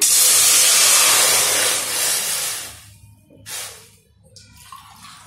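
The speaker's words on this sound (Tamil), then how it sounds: "ஸோ நான் இப்போ ஒரு 4 டம்ளர் தண்ணி ஊற்றுறேன்" Water being poured into a cooking pot for semolina rava pongal, a loud rushing, hissing splash that tapers off after a few seconds, followed by a couple of brief trickles and drips.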